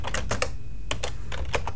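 Quick, clicky keystrokes on a computer keyboard, close up, arriving in short uneven clusters with brief pauses between them as text is entered.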